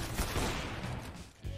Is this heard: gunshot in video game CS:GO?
yes